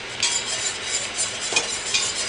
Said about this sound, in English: and whisk the flour